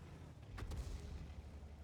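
An enemy tank's cannon fires in World of Tanks, a sharp, heavy blast with a second crack right after, ringing out over the low rumble of engines before settling back to a steady drone.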